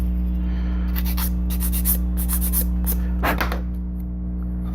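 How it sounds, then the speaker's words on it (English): Quick, rasping strokes of a 180-grit sanding stick rubbing a scale model part's edge, in short bursts over a steady low hum, with a brief pause before a final scrape. "I'm going to clean up that edge a little bit with a sanding stick"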